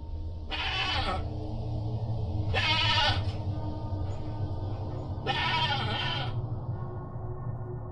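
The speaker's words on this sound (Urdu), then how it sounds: "اس گھر سے کسی بکرے کے رونے کی آواز آنے لگی" A goat bleats loudly from a house at night, three long, strained cries spaced a couple of seconds apart over a steady low background hum.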